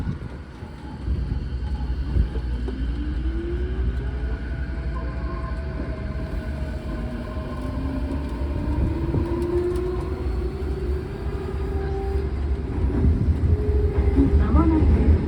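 Odakyu 4000 series car 4510 runs on the Tokyo subway between Nishi-Nippori and Otemachi, heard from on board as a steady close rumble with rising and falling motor whine that builds louder toward the end.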